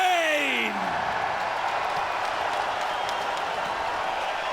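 A London crowd at a PFL mixed martial arts event cheers and applauds a unanimous-decision win, a sustained, loud roar of many voices and clapping after a brief descending tonal sweep at the start.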